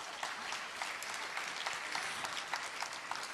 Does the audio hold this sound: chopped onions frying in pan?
no